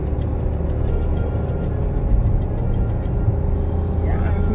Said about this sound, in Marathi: सुसाट चालली आता गाडी.